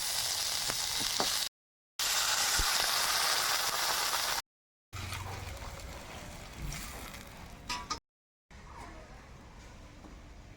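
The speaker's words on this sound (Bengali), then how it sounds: "আলুটা লাল লাল করে ভেজে নিয়েছি, এবার ঝোল দিয়ে দেবো।" Broth is poured into a pan of potatoes fried until reddish, for a fish dish with helencha greens, and the oil hisses in a loud, steady sizzle broken by short silent gaps, with clinks and stirring near the end.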